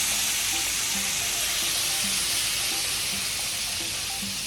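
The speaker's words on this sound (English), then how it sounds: "We're gonna deglaze this entire pan." A pan that held rib eye steak hisses and sizzles loudly and steadily as vermouth, garlic and butter go in to deglaze it, a dense broadband hiss under faint rhythmic clinks.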